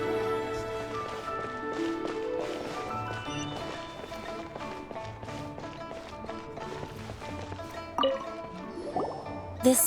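Water being fetched and poured in Genshin Impact: soft dripping, sloshing and filling sounds over gentle in-game music, ending with a couple of brighter liquid splashes.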